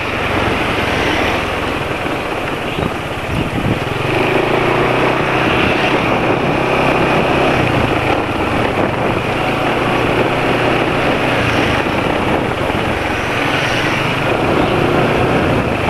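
A motorcycle engine runs smoothly nearby, a steady droning hum that shifts slightly in pitch, with no voices; running on Mesran oil after about 180 km of use.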